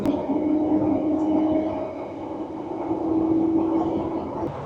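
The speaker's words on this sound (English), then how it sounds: "So that's the Bakerloo line. Brown on the map, noisy in real life." Onboard a noisy London Underground Bakerloo line train running above ground, a steady rumbling roll with a humming drone and rattling wheels, loud and continuous throughout.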